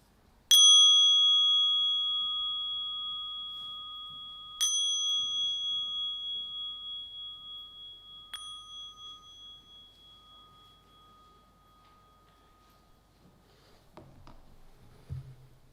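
A clear bell rings three times, each strike leaving a long, slowly fading ring in otherwise near-silence.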